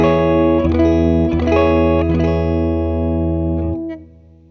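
A single electric guitar note picked with the pick turned about 15 degrees, through the same guitar, string and amp; a few quick repicks ring out as a steady, clean sustained tone that cuts off sharply near the end.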